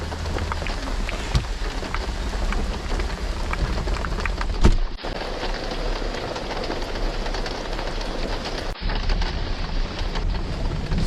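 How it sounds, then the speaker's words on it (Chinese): Heavy rain drums steadily on a small camper van at night during a thunderstorm in Tianjin, a dense continuous wash of sound broken by a few sharp knocks and brief muffled dips. "下好大的雨啊！"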